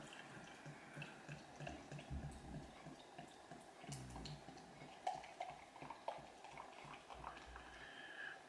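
Exmoor Gold ale pours into a glass with faint trickling and fizzing, a few small clinks and taps, quiet and close throughout.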